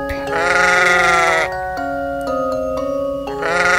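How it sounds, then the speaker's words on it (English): A sheep bleats loudly with a long, wavering cry, followed by a steadier tonal note, and then another bleat begins. "It's the blue sheep."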